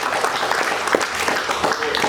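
Audience applause for a student's classroom presentation on ABS braking and aircraft landing glide paths, a steady wash of many hands clapping that fills the whole moment at moderate level, with no talking over it.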